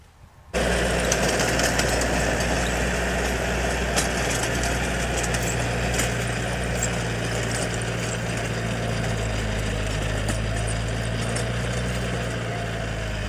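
A tractor engine drones steadily throughout, a continuous low rumble with a constant hum and no voices.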